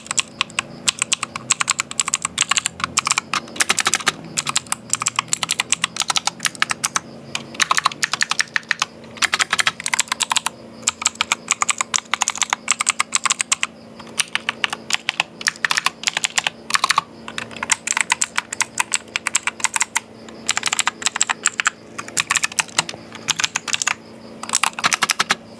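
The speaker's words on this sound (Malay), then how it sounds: "now adalah masanya untuk aku test keyboard ni" Close-miked typing on a new mechanical computer keyboard, bursts of rapid, crisp clacking keystrokes with brief pauses, loud and steady throughout with no talk.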